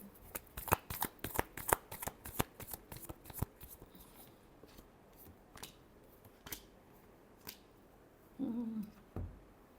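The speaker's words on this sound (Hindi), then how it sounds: "last shuffle" Tarot reading cards are shuffled up close, with a quick run of crisp riffling clicks and slaps that thins out to a few sparse flicks, followed by a brief soft rustle at the end.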